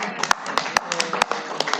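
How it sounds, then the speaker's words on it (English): A few people clap at a legislative blockchain task force meeting, sparse, uneven claps close by, mixed with voices talking. "Shall we clap for all of us?"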